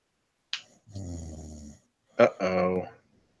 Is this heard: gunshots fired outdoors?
no